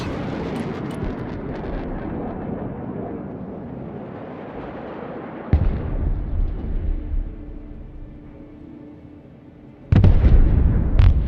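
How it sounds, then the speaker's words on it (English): Cruise missiles explode in the Broken Arrow video game: deep rumbling blasts, with two sharp new detonations striking midway and near the end over a lingering roar, loud and close. "Cruise missiles, look out!"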